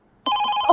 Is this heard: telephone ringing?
yes